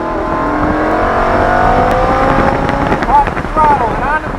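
A Lamborghini Huracán accelerates on a track, its engine droning and rising in pitch at full throttle, with an instructor's voice talking over the engine near the end.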